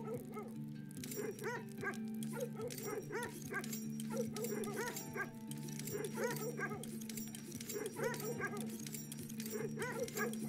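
Sled dogs in the video game Red Lantern yipping, whimpering and barking while they eat, a busy continuous chorus of dog voices layered over steady game ambience, with no talk.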